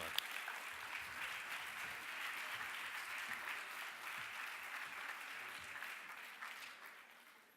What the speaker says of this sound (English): Please give Kwame and Edwidge a big, big round of applause.